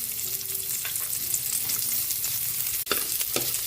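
Garlic and onion crackle and sizzle in a hot frying pan, a loud, steady frying hiss with a few stirring scrapes and a momentary break, no speech.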